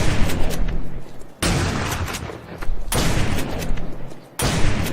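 Distant NPC gunfire from 7 Days to Die rolls in repeated loud bursts, each volley booming and echoing for over a second before cutting off, with no talking.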